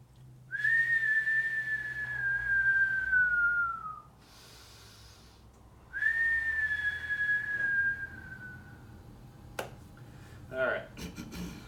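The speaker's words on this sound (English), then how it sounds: "I'm still whistling here." A person whistles two long sustained notes, each gliding slowly downward, close and fairly loud with a gap between them, followed by some faint clicks and shuffling.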